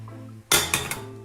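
Spring roll filling mixed in a bowl, giving a brief burst of three clinking, scraping knocks of a utensil against the dish, close and clear.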